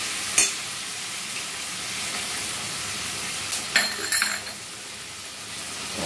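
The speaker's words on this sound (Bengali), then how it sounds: "দিয়ে দিচ্ছি এটা সয়া সস" Soy sauce goes into a hot pan of egg chilli, a steady loud sizzle of frying with a few clinks of a utensil or bottle against the pan.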